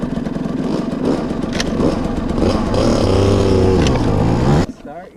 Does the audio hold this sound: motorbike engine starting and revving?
yes